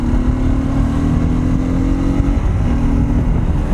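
A 2021 BS6 Hero Xtreme 200S motorcycle is ridden along, its engine holding a steady loud drone under strong wind rush, with a brief dip in pitch partway through.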